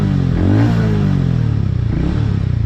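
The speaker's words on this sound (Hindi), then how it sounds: "जब आप बाइक पर बैठते हो और स्टार्ट करते हो तो जो इसका साउंड है वो आपको काफी पसंद आएगा" Hero Mavrick motorcycle, 2024 model, its engine revving up and then settling into a deep, even thumping idle, close and loud, with no talk.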